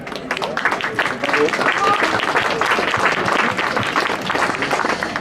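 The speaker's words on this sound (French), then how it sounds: "Voilà pour Lydie Martin, sous vos applaudissements." A crowd at the Fête du Crémant in Châtillon-sur-Seine applauds Lydie Martin after a guestbook signing. The clapping is continuous and fairly loud, with voices and cheering mixed in throughout.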